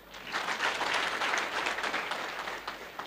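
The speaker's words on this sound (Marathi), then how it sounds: "यानंतर सगळे पुरुष टाळ्या वाजवतील महिलांसाठी" Men in an audience at a student felicitation event clap for the women, a full burst of applause that swells and then slowly thins out.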